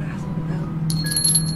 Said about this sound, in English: It has a bell for a reason.